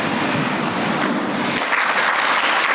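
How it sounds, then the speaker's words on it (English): Audience applauding as a woman is called up to the stage at a tech and life skills awards banquet, a steady dense wash of clapping throughout. "let's give her a big round of applause"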